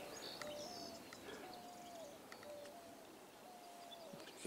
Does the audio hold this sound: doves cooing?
yes